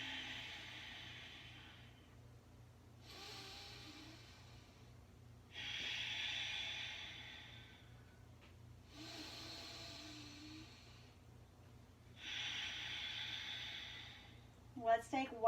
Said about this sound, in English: Taking a few breaths here, breathing in.